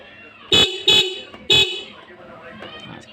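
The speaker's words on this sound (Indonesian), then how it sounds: "Terus kita dengarkan suara klakson yang kecilnya" A small motorcycle horn, one of two horns wired to a single button, honks three short, bright blasts in quick succession, loud and close, followed by faint background noise.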